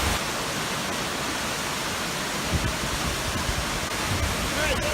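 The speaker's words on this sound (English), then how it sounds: "There it is, the Adams Canyon Waterfall." Adams Canyon Waterfall in Layton, Utah, gives a steady, full-band roar of falling water close by, with a brief voice heard over it.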